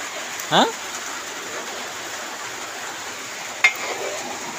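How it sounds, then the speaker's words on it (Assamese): Rain falls steadily outside, a soft continuous hiss with a couple of brief sharp knocks close by and faint voices in the background. "এইফালে বতৰো বেয়া, বৰষুণ দি আছে"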